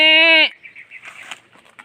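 A goat on a small backyard farm gives a loud, harmonic bleat that cuts off after half a second, followed by faint rustling and scattered soft sounds.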